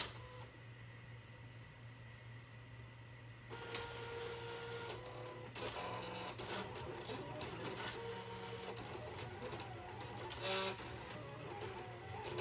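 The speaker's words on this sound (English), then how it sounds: "it is in the machine and it is cutting away." Cutting machine slicing glitter heat transfer vinyl, a quiet, steady motor hum with intermittent clicks and short whirring carriage moves, heard faintly and without speech.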